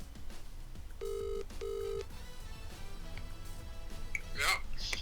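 Phone ringing out on an outgoing call, two short electronic ringback tones, fairly faint over background noise and murmuring voices.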